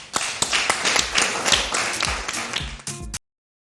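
Studio audience on a television set claps rapidly and densely for about three seconds to welcome a guest, a loud burst of applause that cuts off abruptly.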